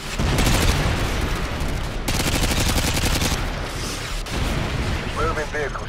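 Javelin missiles and gunfire in a Call of Duty Modern Warfare mission: continuous loud bursts of rapid automatic fire and heavy booms, with brief gaps, overlaid with voices and radio chatter.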